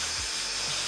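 Meco portable cordless vacuum/blower running in blowing mode, held close: a steady, even airy rush of motor and air, constant in level throughout, with no talk over it.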